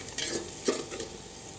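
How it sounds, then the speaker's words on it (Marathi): Capsicum frying in oil in a pan for pav bhaji, a steady close sizzle with a few quick stirring scrapes. "तर इथे बघू शकता शिमला मिरची फ्राय झालेली आहे, म्हणजे तेलात चांगली शिजलेली आहे"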